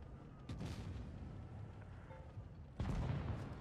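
Two heavy tank cannon shots in World of Tanks, each a deep booming blast, one near the start and a louder one about three seconds in, over a low rumbling engine background.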